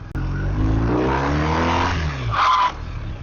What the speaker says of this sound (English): front wheel lock skid. You can hear it, definitely can see it.